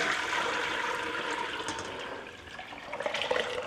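Meat juices from pulled pork poured through a strainer, a continuous close splashing trickle of liquid that holds steady and thins slightly toward the end.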